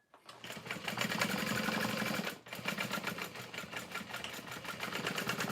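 A sewing machine top stitches a tote bag seam through vinyl and lining fabric, whirring in a fast, even rhythm, pausing briefly midway before running on, close and alone.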